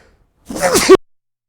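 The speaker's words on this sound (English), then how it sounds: "hang on, I got to sneeze." A single short sneeze from a host on a live shopping show, sharp and close, bursting out of silence and cutting off abruptly.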